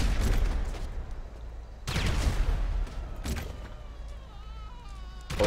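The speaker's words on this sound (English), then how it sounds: "Eat mortar, zombies!" Mortar rounds fire and explode in a GTA 5 zombie apocalypse mod, three heavy booms spaced a second or two apart, each leaving a rumbling decay, with faint crackling between.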